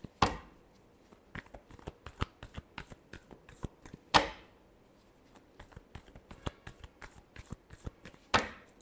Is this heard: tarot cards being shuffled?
yes